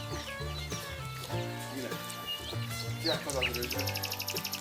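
Rapid, high chicks' peeping grows steady near the end, layered under continuous talking and other background sounds.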